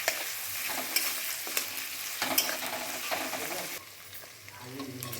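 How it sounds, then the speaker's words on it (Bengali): Minced mutton for a Kolkata-style keema ghugni sizzles steadily in a pan while a spatula stirs it, with repeated scraping clinks, before the frying hiss quietens toward the end. "মাংসগুলো প্রায় ভাজা হয়ে এসছে"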